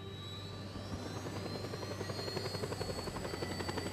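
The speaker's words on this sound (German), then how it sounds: "Also zurück zum Hubschrauber." A helicopter in the video game Just Cause 2 drones steadily with a loud, close rotor chop whose rhythmic thumping grows more pronounced toward the end, playing alone without speech.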